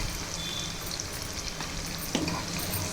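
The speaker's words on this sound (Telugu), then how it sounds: "ఇవన్నీ బాగా వేపుకోవాలి" Coriander, curry leaves and spices fry in a pan for kattu pongal, giving a continuous close sizzle with light crackles and a brief scrape of stirring near the end.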